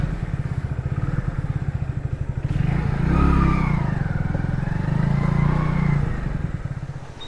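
A motorcycle engine idles with a rapid, throbbing chug, then revs up and falls back, loud and near, with no voices.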